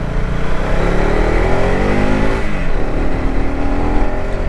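A motorcycle engine labours loudly and steadily as it climbs a steep uphill road to Mussoorie, with a continuous drone and wind noise and no pause.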